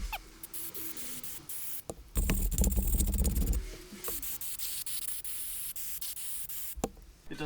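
A 25-year-old sludge-coated VW T4 2.5 TDI intake manifold being scrubbed with parts cleaner, close rubbing and scraping strokes with a louder burst of brushing midway and a few spray hisses, no talking.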